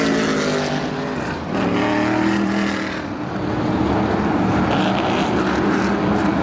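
Supermodified race cars at Star Speedway during a 125-lap feature roar toward the listener, a loud, dense engine wall that dips briefly before swelling again as the field approaches.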